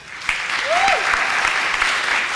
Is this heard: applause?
yes